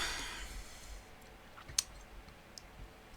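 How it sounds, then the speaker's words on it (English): Light clicks of typing on a computer keyboard, a few isolated faint taps spread over a quiet stretch with a soft breathy sound at the start. "You see me typing everything."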